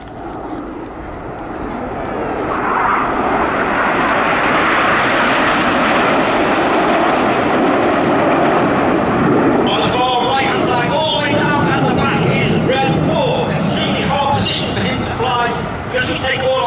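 A Royal Air Force Typhoon jet at an air festival display, its engine roar building from a distance to a loud, sustained, close pass, with a commentator talking over it during the second half.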